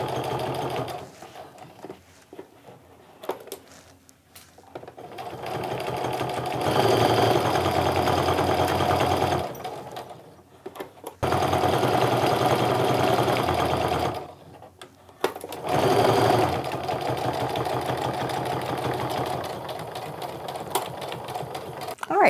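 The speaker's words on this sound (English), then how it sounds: "Sewing the quarter inch away from everything." A sewing machine stitches fabric for a small wristlet a quarter inch from the edge, running in long steady buzzing stretches broken by brief pauses, close and loud, with a little talk in between.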